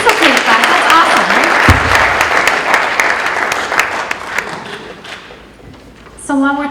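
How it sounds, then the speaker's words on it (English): An audience at a community solar eclipse meeting claps after a talk, a burst of applause with some thumps that gradually thins out, then a voice speaks at the end. "It's okay to clap."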